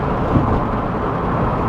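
A Nissan 350Z fitted with a new exhaust gives a steady, fairly subdued low rumble for a brief moment, with no voices.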